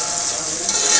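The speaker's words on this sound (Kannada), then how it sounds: "ಈಗ ಟೊಮೆಟೊ ಹಾಕಿದ್ರು, ಅದನ್ನು ಕೂಡ ಫ್ರೈ ಆಗಬೇಕಂತೆ" Tomatoes frying in a pan for chicken sambar, a steady, close, loud sizzle with stirring scrapes, no talking.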